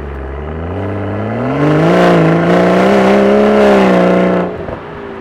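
A tuned BMW M240i engine in comfort mode revs up from a low hum into a strong, rising pull, holds a loud roar for a few seconds, then drops off abruptly.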